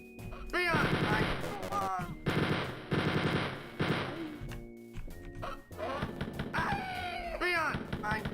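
Gunfire in the retro first-person shooter Spear of Destiny: rapid machine-gun bursts broken by brief gaps, with harsh game sound effects and cries layered over them, loud and continuous.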